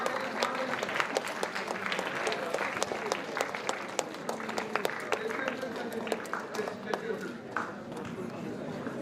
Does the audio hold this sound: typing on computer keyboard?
no